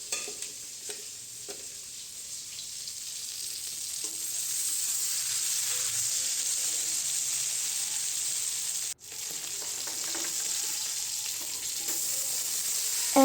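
Fish fries in oil in a kadai with a steady, close sizzle and hiss, broken once by a brief dip before the frying noise resumes.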